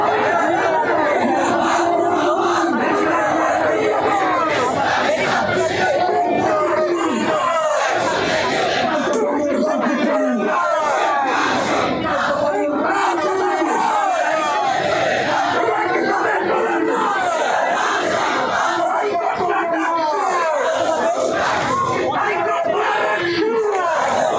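A loud student crowd marches through the capital with placards, chanting slogans in protest at an attack on students. The dense chanting and shouting run without a break throughout.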